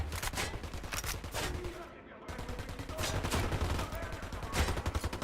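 Rapid gunfire in the Ghost Recon Wildlands video game, with dense overlapping bursts of shots, one brief silent gap near the middle, and a voice speaking underneath at moderate loudness.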